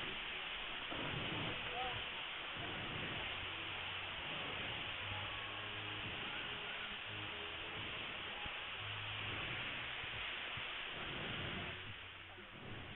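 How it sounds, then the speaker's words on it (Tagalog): A waterfall pours nearby, a dense continuous rush of falling water holding steady and loud, with faint voices beneath it. "Nakaka-relax yung tunog ng tubig"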